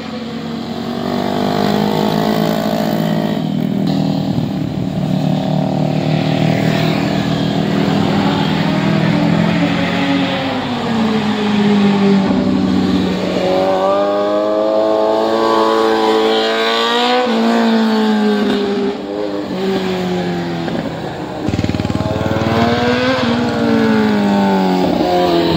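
Big bike motorcycles revving during a group ride, loud continuous engine roar rising and falling in pitch through repeated accelerations, heard up close with no talk.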